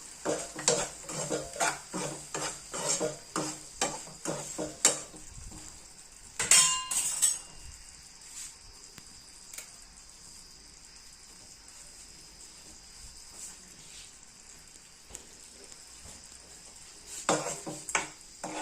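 Utensils clink and scrape against a plate and pot while serving a raw mango curry, a home-cooked South Indian dish: a quick run of sharp metallic taps, a pause, and a few more clinks near the end.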